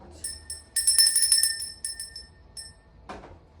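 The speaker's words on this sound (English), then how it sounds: "that's the bell." A small bell rings in a few bright, clear strikes close by, with short pauses between them, followed by a faint clunk.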